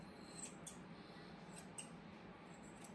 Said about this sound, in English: I'm using the rounded shears, it really helps